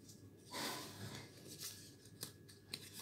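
Scissors snip through paper while a paper rose is being cut, with a few crisp, close cuts spaced unevenly over a quiet room.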